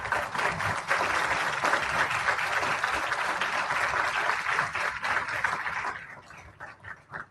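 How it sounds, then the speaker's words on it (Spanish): Audience applause for a panel at a children's and adolescents' rights forum, a dense, steady wash of many hands clapping that holds strong for about six seconds, then thins into scattered claps as it dies away. "Les pido por favor, demos un fuerte aplauso a nuestra mesa."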